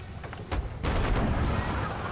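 Ship cannons fire in the pirate game Sea of Thieves, a few booming blasts in quick succession followed by a sustained rumbling roar of explosion and sea noise.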